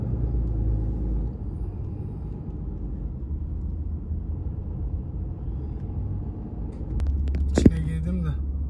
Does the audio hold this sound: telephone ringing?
no